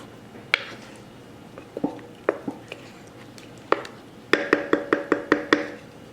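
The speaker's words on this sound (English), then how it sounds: "I'll give it a stir." A spoon stirs grape jelly and BBQ sauce meatballs in a crock pot, giving sparse wet scrapes and clinks against the pot, then a quick run of rhythmic knocks near the end. No one speaks.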